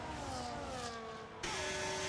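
A Formula 1 car in the racing game F1 25 roars down the straight at Bahrain, a steady high engine whine that shifts up sharply partway through, moderately loud with no talk.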